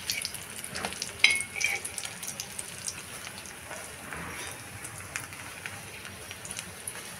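Bombay duck (bombil) fish frying crisp in hot oil, a steady rain-like hiss and crackle, with a sharp metallic clink early on and a faint voice underneath.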